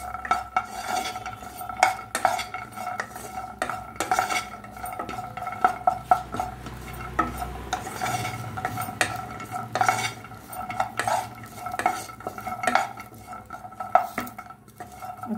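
Sabudana (tapioca pearls) roasted dry in a pan, stirred steadily with a utensil that scrapes and clinks against the metal in a continuous, close rhythm with no voices.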